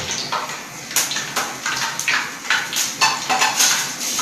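Freshly fried boondi (small gram-flour droplets) being handled and broken, giving a run of sharp, crisp crunching and clattering taps at close range, repeated about every half second with no talk over it.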